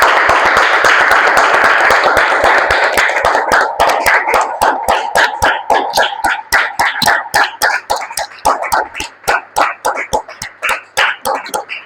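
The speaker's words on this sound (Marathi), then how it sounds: "आपण येशूसाठी जोरदार टाळ्या वाजवा" A church congregation claps loudly for Jesus, a dense roar of applause that thins into sharp, separate claps toward the end.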